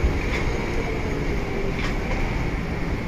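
A three-car train pulling into a station near JR Hiroshima Station, a steady low rumble with faint rattling and a couple of brief high screeches over the continuous rolling noise.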